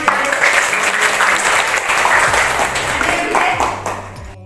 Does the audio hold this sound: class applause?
yes